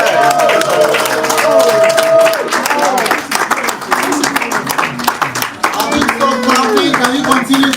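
At a Nigerian political rally for an activist, a crowd claps sharply and repeatedly while loud voices and shouting carry on over the clapping throughout.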